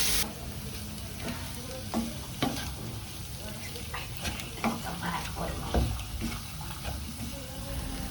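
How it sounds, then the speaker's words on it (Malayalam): Mutton liver fry stirred in a pan with ground fennel and black pepper, a steady sizzle running throughout with scraping spoon strokes and small clinks at close range, and no one talking. "വെള്ളമൊക്കെ വറ്റി കഴിയുമ്പോൾ പെരിഞ്ജീരകവും കുരുമുളകും പൊടിച്ച് വെച്ചത് ഇട്ട് കൊടുത്ത് നന്നായിട്ട് ഇളക്കി യോജിപ്പിക്കുക"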